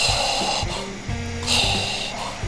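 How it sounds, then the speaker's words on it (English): A mechanical breathing machine on a roof in the game Scrap Mechanic gives slow rhythmic wheezing, hissing breaths, two strong gusts separated by quieter intakes, with no talk. "if you listen carefully, you can actually hear like a breathing machine coming,"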